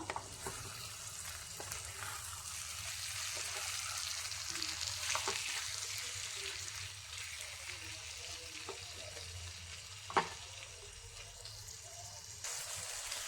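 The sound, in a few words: chicken frying in a pan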